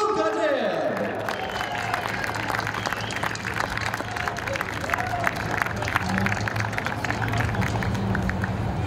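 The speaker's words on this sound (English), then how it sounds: "How about a round of applause for Luka Dib?" Crowd applause and cheering at a speedway after a Bandolero feature race, broad and steady across the grandstand, with a low engine-like hum underneath and some voices mixed in.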